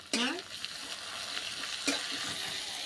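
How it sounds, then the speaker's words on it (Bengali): Ginger garlic paste fries in a pan with a lively sizzle, punctuated by two sharp scraping stirs of a spoon against the pan, close and continuous. "আদা আর রসুন বাটা দিচ্ছি"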